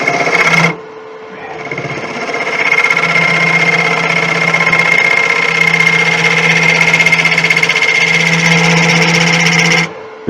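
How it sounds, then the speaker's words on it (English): Wood lathe spinning a beech bowl while a heavy negative rake scraper cleans up the flat base, giving a steady whining hum with a faint rasp that runs almost unbroken for about nine seconds after a short opening thump. "I'm going to go to the heavy negative ray scraper and clean up in there."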